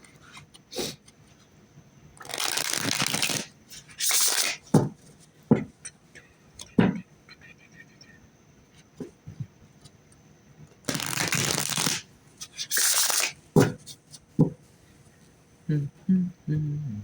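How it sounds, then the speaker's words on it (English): Rider-Waite tarot cards being shuffled nearby, in several short bursts of riffling and papery flutter separated by quiet gaps, with a few light taps and clicks between. "But I like to give it a few shuffles anyway."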